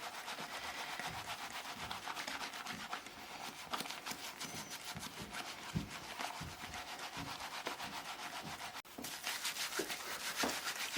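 Soap wrapped in wool felt and netting is rubbed steadily by hand, a continuous soft scratchy swishing with a quick repetitive rhythm, close and fairly quiet, with no talking.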